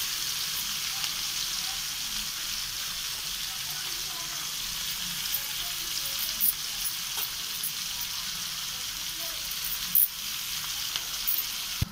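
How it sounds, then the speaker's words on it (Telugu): Onions, ginger and garlic frying in hot oil give a steady, dense sizzle that holds evenly throughout, close by, with a few faint clicks near the end and no talking. "అవి వేగిన తర్వాత అల్లం వెల్లుల్లి అన్నీ వేసుకోవాలి"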